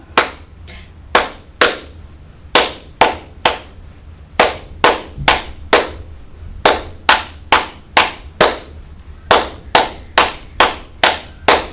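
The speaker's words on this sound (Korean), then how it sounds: "자, 박수 준비 시작" Children's clapping game in a youth worship session, counting claps up floors of stairs to the sixth: sharp, distinct hand claps in rhythmic bursts, clusters growing longer, close and loud over a quiet low hum.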